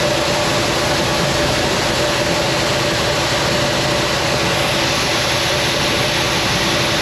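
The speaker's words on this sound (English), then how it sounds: "Okay, the truck just got here." Loud, steady rumble of a grain truck's engine idling beside an auger during corn hauling, a constant close-up drone with broadband noise and a low hum running unchanged throughout, with no voices.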